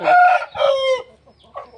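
A rooster held firmly by both legs gives a couple of close, loud harmonic calls, crow-like squawks, then a short softer cluck after a pause.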